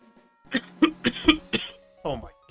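A person coughs in a close series of several harsh bursts, with a short voiced sound at the end.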